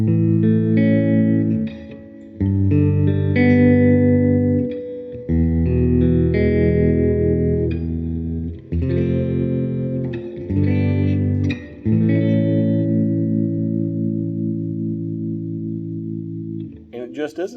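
Gibson Adam Jones 1979 Les Paul Standard electric guitar played with a clean tone, sustained chords and notes ringing out in phrases with short gaps, close and alone.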